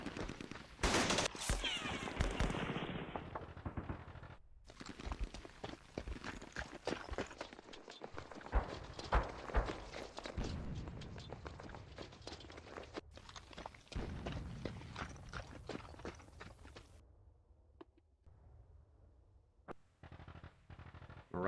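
Gunfire and combat effects from Campaign Series: Middle East, a Yom Kippur War wargame, come as dense, overlapping bursts of shots and impacts. They rumble on steadily for about twenty seconds, then thin out toward the end.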